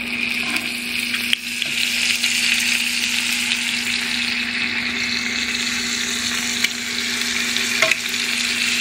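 Tawa chicken frying on a griddle: a steady, close hiss of sizzling oil with occasional clinks as pieces are turned side to side, continuous and alone without talking.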